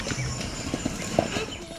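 Horse hooves clip-clopping at a riding stable, a few soft uneven hoof strikes under steady background noise and voices.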